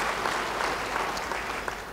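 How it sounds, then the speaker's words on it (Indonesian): A church congregation applauds during a sermon, a brief burst of dense clapping from a crowd, moderately loud and steady throughout. "Yang setuju beri tepuk tangan bagi dia."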